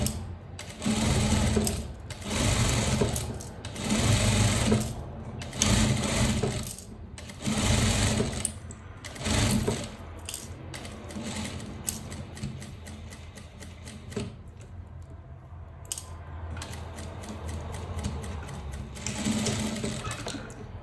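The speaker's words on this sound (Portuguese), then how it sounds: "E vem costurando, tá?" A sewing machine stitches a curve on a striped shirt in rapid bursts of mechanical whirring and ticking, starting and stopping repeatedly with short pauses between runs, close and clear.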